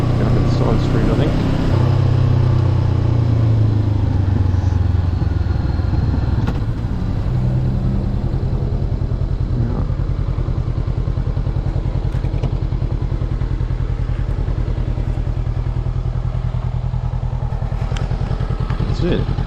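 A 2023 Honda CB500F engine runs steadily and close through the whole ride around town, with a low continuous drone, occasional clatter and thumps, and faint voices in the background.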